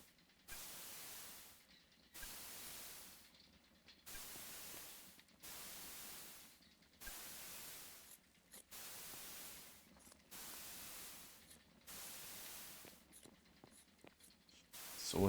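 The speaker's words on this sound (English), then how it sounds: "And let us start spraying the wall." White paint sprayed onto a wall in the game Eco, heard as repeated bursts of hissing spray about two seconds each, separated by short gaps, quiet and close with no voices.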